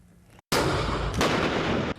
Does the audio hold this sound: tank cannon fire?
yes